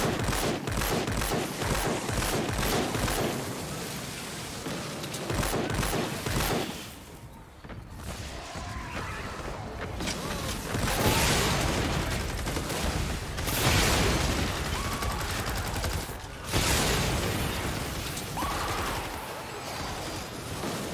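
Fortnite Save the World gunfire as a player shoots at enemies: dense, continuous rapid shots and impacts rattle on almost without pause, loud and close, with brief lulls and game effects layered in.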